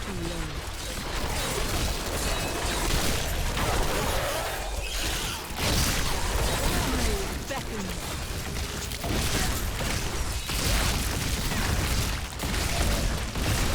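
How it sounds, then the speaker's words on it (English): Corpse explosions in the video game Diablo 3 from the Rise of the Necromancer content, a continuous barrage of booming, crashing blasts and whooshes layered densely over each other with little pause. "Ah, corpse explosions."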